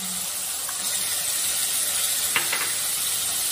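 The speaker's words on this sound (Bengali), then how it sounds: "এবার এখানে পেঁয়াজ বাটাটা দিয়ে দিচ্ছি।" Onion paste hits a pan of softened tomato and sizzles steadily, with a brief stirring clatter partway through, close and alone without talk.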